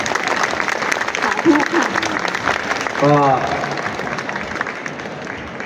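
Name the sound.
audience applause at award ceremony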